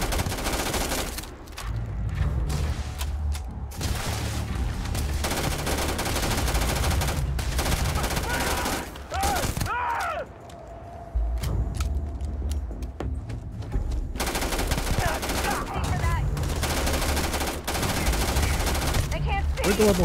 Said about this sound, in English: Was she shooting at me? I could have sworn she was shooting at me.